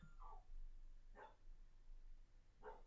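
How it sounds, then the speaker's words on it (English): A dog barks three times, each bark short and moderately loud, spaced out over a quiet indoor background with a steady low hum. "please stop barking"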